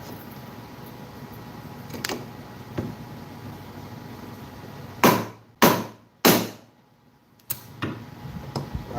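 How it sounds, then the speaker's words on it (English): Three sharp metal hammer strikes land in quick succession, loud and close, on the flywheel of a Predator 212cc mini bike engine, followed by a couple of lighter taps over a steady low background hum. "I need you to hold it while I hammer it."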